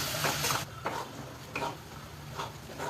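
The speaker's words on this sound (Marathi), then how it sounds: "असं हे कांदा आणि टोमॅटो चांगलं परतून घ्या." Onion and tomato being sautéed with salt in a pan for bheja fry, a spatula scraping through them in a few distinct strokes over a soft, steady background sizzle.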